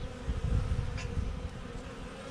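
A low, continuous buzzing of many bees around a newly installed Layens horizontal hive fills the air, steady and close, with no voices.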